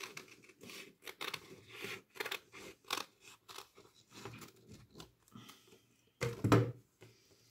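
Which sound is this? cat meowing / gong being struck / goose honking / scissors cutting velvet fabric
scissors cutting velvet fabric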